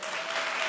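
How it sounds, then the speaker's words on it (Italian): Brief burst of dense audience applause at a conference celebrating ten years of the Valore D association, loud and continuous with a faint tonal hum underneath. "Un applauso."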